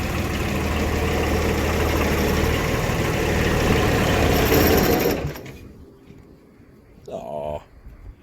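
An engine runs at a steady loud idle for about five seconds, then drops away to near quiet, followed by a brief mechanical whir; a voice is heard briefly.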